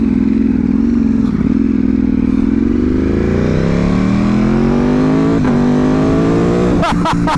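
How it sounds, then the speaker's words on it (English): A 2025 Ducati Panigale V4 S with an Akrapovic exhaust revs while standing still, a loud, steady engine drone rising gradually in pitch, ending in a few sharp crackling blips. "just revving this exhaust and not really moving is purely magical"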